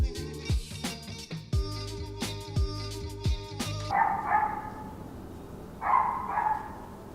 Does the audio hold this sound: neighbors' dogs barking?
yes